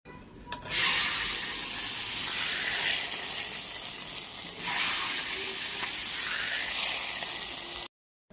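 A hot tempering of dried chilli, bay leaf and five-spice in oil is poured into khichuri, setting off a loud, sustained hissing sizzle that surges, eases slightly midway, and then cuts off abruptly.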